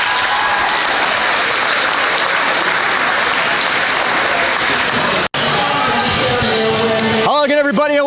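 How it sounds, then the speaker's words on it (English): Crowd applause fills a high school gym at a Senior Night basketball game honoring the senior boys, loud sustained clapping that breaks briefly, resumes, then gives way to an announcer speaking. "Let's have another nice round of applause for the Senior Boys"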